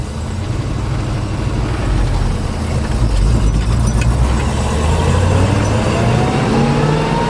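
A 1970 Ford Mustang Mach 1 engine idles at the roadside, a steady loud low rumble that holds continuously throughout with no talking.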